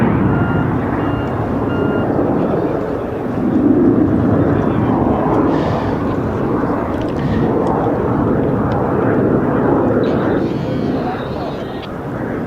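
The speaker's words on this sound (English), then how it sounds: "Booger is now configuring the aircraft for a rolling vertical landing." A Harrier jet flying a demonstration at an air show, its engine roaring as a dense, continuous blast that swells and fades slightly, loud and steady, with faint crowd or announcer sound in the background.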